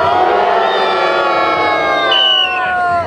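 A big crowd cheers and shouts loudly for about three seconds in one sustained roar, with high voices rising and falling together.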